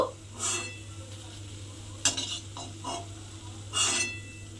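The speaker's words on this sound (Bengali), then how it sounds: "আবারও কিন্তু ওই তেলের মধ্যে এক চামচ করে দিয়ে এইভাবে বড়ার মতো ভেজে নেব" Egg fritters frying in hot oil in a pan, with a steady background hum broken by a few short bursts of sizzle and spoon scraping, with no talk.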